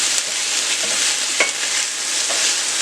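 Onions frying in a pan give a steady, close sizzle with soft stirring scrapes running throughout, and no voices over it.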